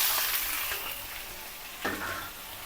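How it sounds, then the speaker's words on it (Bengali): Chicken meat with potatoes and onions sizzles and fries in a pan, a soft steady crackle with a brief stirring scrape partway through. "মুরগির মাংসটা দিয়ে একটু ভেজে নেব সব কিছু একসঙ্গে দিয়ে ভেজে নেবো"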